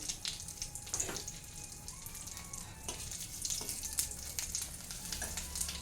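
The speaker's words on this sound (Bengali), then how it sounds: "আমি একটু গোটা জিরে ফোড়ন দেবো তেজপাতা ফোড়ন নেব" Whole cumin seeds and bay leaf temper in hot oil with a soft, fairly faint crackling sizzle, punctuated by a few light clicks and spits.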